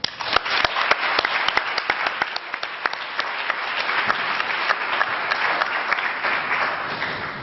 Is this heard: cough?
no